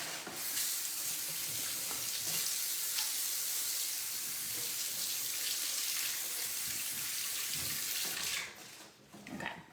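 Tap water runs steadily into a kitchen sink while hands are washed partway through cooking, a close, continuous hiss and splash that tapers off near the end.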